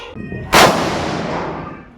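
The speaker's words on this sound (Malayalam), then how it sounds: "കുരുവി പടക്ക. വാ സൗണ്ട് പടക്കല്ലേ?" A three-year-old kuruvi firecracker, left over from Diwali, goes off. It is a single sharp, loud bang followed by a long rumbling decay, with fainter small noises just before it.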